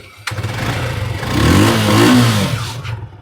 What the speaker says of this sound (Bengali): ইঞ্জিনের সাউন্ড হচ্ছিল সুপার ফ্রেশ কন্ডিশন সাউন্ড